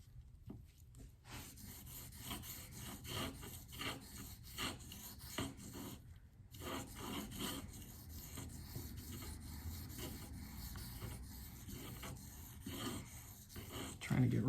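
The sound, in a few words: knife steel sharpened on diamond stones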